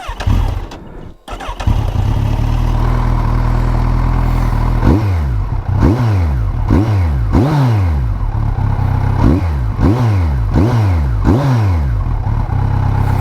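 A motorcycle fitted with new deep exhaust pipes starts up and idles in neutral, then revs repeatedly in a steady rhythm of rising and falling bursts, loud and close.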